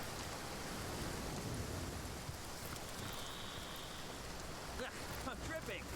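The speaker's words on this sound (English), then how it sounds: "We got rain." Steady rain falling in the Divinity: Original Sin video game, a continuous soft hiss of drops lasting several seconds, faint and even, with a few brief tonal game sounds near the end.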